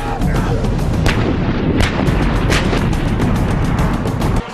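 Indian Army artillery bombarding an enemy position produces a dense, continuous roar of loud booms and sharp cracks, one barrage overlapping the next with no pause.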